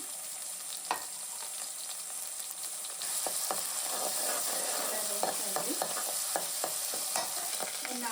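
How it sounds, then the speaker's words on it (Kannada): Ginger, garlic and four green chillies crackle and sizzle in hot tempering oil for a village-style mutton blood fry, a steady close hiss with scattered sharp pops that grows louder partway through, with no talking. "ಒಗ್ಗರಣೆಗೆ ಇವಾಗ ಶುಂಠಿ ಬೆಳ್ಳುಳ್ಳಿ ಜಜ್ಕೊಂಡಿದ್ದೀನಿ ಒಂದು ಅಷ್ಟು ಬೆಳ್ಳುಳ್ಳಿ ಒಂದು ಇಂಚಷ್ಟು ಶುಂಠಿ ಒಂದು ನಾಲ್ಕು ಹಸಿರು ಮೆಣಸಿನ್ಕಾಯಿ ಹಾಕ್ಕೊಂಡಿದ್ದೀನಿ"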